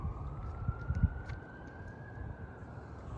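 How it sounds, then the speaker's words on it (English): Emergency vehicle siren wailing outside as a steady, faint tone held through the whole stretch, with a few soft low thumps early on and no voices. "you can hear the siren right now"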